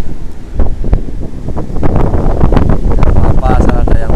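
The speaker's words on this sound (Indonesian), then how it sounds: "Anginnya mengerikan." Strong gusting wind buffets the microphone at a south-coast sandy beach during surf fishing, a loud continuous roar with possible surf beneath it.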